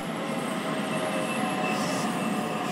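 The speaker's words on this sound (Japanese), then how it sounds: "誰も降り立たないこの駅に列車が止まる。" A JR Joban Line train pulls into Ono Station near the Fukushima nuclear plant, giving a loud steady rumble of wheels on rail with high squealing tones as it slows.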